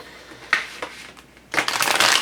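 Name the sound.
tarot cards being shuffled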